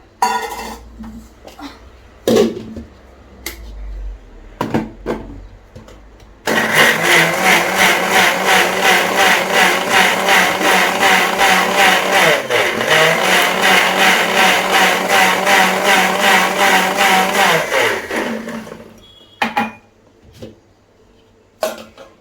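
A kitchen blender whirs through grapes, sugar and milk for about twelve seconds, loud and close with a pulsing motor drone, framed by scattered clatter of dishes and handling before and after.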